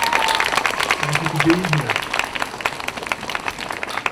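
Audience applause at a Veterans Day ceremony in Riverside for the Post Commander, steady crowd clapping throughout while a voice speaks briefly over it.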